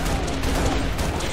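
Dense, continuous gunfire rattles through a Halo multiplayer match, loud and sustained without a break over a short burst of combat.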